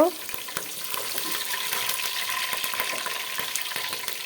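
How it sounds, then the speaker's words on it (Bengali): Onion and garlic pieces frying in oil for a spicy pulao, a steady close crackling sizzle with faint stirring clatter that holds at an even level throughout. "আমি তেল দিয়েছি, তার মধ্যে পেঁয়াজ আর রসুন কুচি দিয়েছি, এগুলো লাল লাল হয়ে উঠছে"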